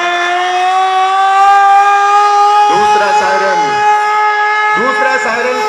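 A civil defence siren wails in a long, steady tone during a public safety drill at a stadium, loud and sustained, while a voice briefly cuts in over it twice.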